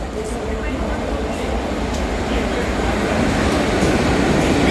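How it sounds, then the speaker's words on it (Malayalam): A train pulls into a station, its steady low rumble and broad rail noise building slightly as it nears, with faint higher squeals over the continuous roar. "അടുത്തൊരു ട്രെയിൻ വരുന്നുണ്ട്."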